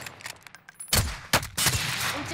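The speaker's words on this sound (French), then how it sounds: "Prison, ça nous tire dessus." Enemy gunfire in Warzone from a team on a prison rooftop, several sharp bursts of shots in quick succession, with a quiet stretch before the first burst.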